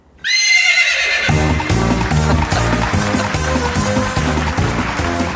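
A loud, close horse neigh opens a sound effect before a comedy awards scene, then gives way to rhythmic music with a pounding beat that continues to the end.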